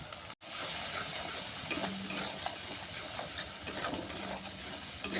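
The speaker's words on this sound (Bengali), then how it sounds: "সমস্ত মশলা ভালো করে কষিয়ে নিচ্ছি যতক্ষণ না মশলা থেকে তেল ছাড়ছে" Powdered spices such as chilli and turmeric with salt are stirred and sautéed in hot oil in a pan, making a steady close sizzle with scraping stir strokes throughout, apart from a brief gap near the start.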